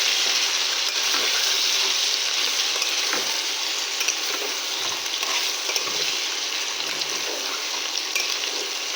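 Beef and taro frying in a pan with ground spices, a steady loud sizzle running the whole time, with intermittent scraping as the mixture is stirred.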